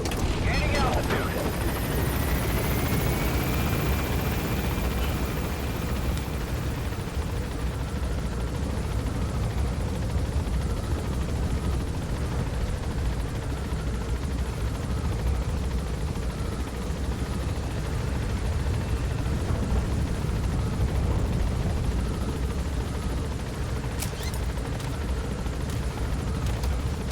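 A helicopter in Metal Gear Solid V drones steadily and loudly throughout, its dense rotor and engine roar continuous from start to finish, with a sharp noise near the beginning.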